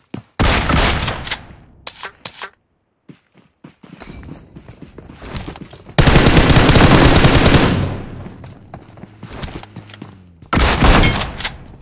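Gunfire in a Free Fire-style battle royale game, with loud bursts of rapid automatic shots in separate volleys, short gaps of near silence between them, and a long sustained barrage in the middle.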